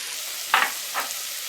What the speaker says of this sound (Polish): I teraz do cebuli i pora dodaję czosnek. I dwie łyżeczki papryki słodkiej.